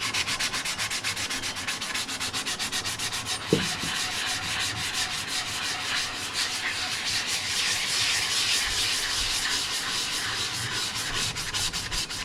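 Sandpaper works back and forth over a 3D printed Scout Trooper cosplay helmet, a steady, close, rhythmic scratching of quick repeated strokes that continues for over ten seconds, with one brief knock partway through.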